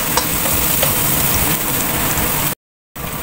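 Garlic sautéing in hot oil, a dense, steady, loud sizzle close up and unbroken apart from a brief cut near the end, with no talk.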